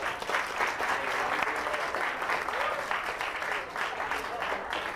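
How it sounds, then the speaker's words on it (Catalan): Steady applause from a studio audience for a contestant on a television word-spelling quiz show, dense and continuous clapping lasting the full five seconds at a moderate level. "et farem aquest aplaudiment"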